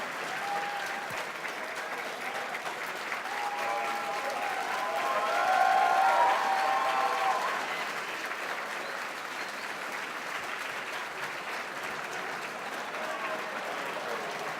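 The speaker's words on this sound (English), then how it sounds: "Keep applauding while I write that down." Sustained audience applause at a closing ceremony, dense clapping from a crowd that swells briefly in the middle before continuing steadily.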